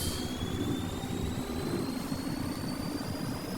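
A dragon-styled vehicle cruising in the Indian Bike Driving 3D mobile game, giving a steady, loud, jet-like engine roar with a rising whine that holds constant throughout, with no speech.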